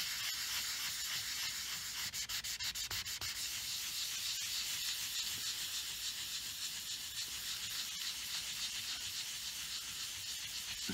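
A guitar body coated in many layers of soft Tru-Oil finish is sanded by hand, with steady close-up rubbing and hissing strokes that run without a break and come in dense bursts of scratchy friction.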